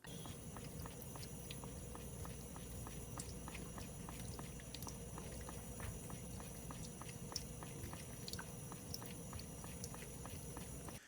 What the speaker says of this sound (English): that lovely sound you just heard was the sound of our cat Mowgli drinking water out of the sink